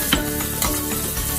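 Garlic sizzles in hot oil in a pan while being stirred, cooked for crispy pork binagoongan; a close, steady crackle with soft scraping strokes of the spoon.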